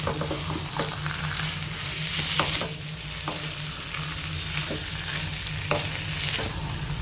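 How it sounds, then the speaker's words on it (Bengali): Banana-flower mocha ghonto with a spoonful of ghee and garam masala being stirred in a pan: steady low sizzle with repeated scraping, clattering spatula strokes, close and continuous without talk. "এবার ভালোভাবে নেড়েচেড়ে মিশিয়ে নেবে।"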